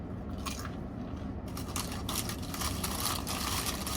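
Someone bites and chews Sonic's cheesy garlic pepperoni bites, giving close, moist crunching and chewing noises that run steadily through the moment with no talk.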